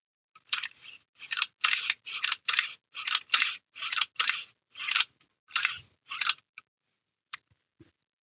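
An MRA Renegade rifle fitted with a silent buffer system cycles repeatedly, giving about a dozen sharp mechanical clacks in a steady rhythm, close and fairly loud, with a few fainter clicks after a pause and no talking.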